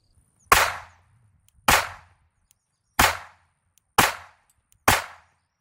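Five sharp pistol shots from a Glock, fired one at a time at roughly one-second intervals, each a crisp crack with a short decaying tail, distant-sounding with quiet pauses between.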